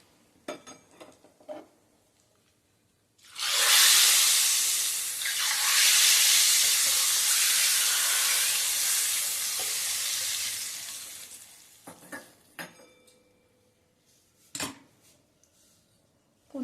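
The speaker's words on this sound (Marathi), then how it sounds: "आता ही सगळी फोडणी मी हा जो कट आहे ह्याच्यावर घालते." Hot tempering of oil with asafoetida and turmeric is poured onto the spiced dal broth for katachi amti. It bursts into a loud, close sizzle that fades slowly over about eight seconds, with faint utensil clinks before and after.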